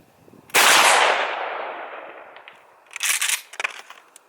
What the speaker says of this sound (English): I'm just going to take some shots out there and see if we can get some good hits on target.